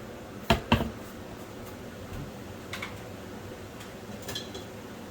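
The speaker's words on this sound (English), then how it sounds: "Oh, hold on, drop my spoon." A spoon dropped in a home kitchen gives two quick sharp clinks close together, followed by a few faint ticks and light rattles in a quiet room.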